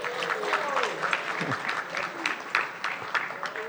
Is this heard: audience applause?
yes